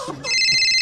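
A mobile phone ringtone rings during a comedy skit about hunting for a lost phone, starting after a brief muffled sound and then holding a steady, bright, repeating electronic tone, loud and close, with no talk over it.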